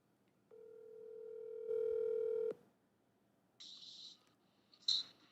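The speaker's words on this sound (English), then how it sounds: "Let me call Glasses." A telephone dial tone rings out steadily while a call is placed, a sustained tone lasting about two seconds, followed by a couple of short higher beeps or clicks as the line connects; no one speaks.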